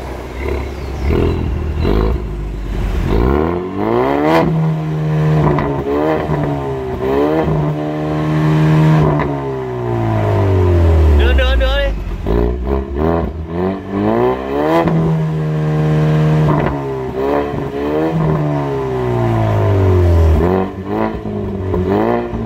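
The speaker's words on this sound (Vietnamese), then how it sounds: "Thế nhờ bạn ở trong xe đạp nổ một chút cho anh em nghe nhé." A Ford Mustang with a sport exhaust revving repeatedly while stationary: loud, close engine roars rising and falling in pitch through several long blips, with steady idle between them.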